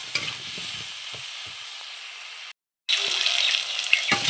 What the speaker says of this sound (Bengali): লবণ হলুদ দেওয়া হয়ে গেছে, এখন একসঙ্গে সব নেড়ে চেড়ে মিশিয়ে নেব।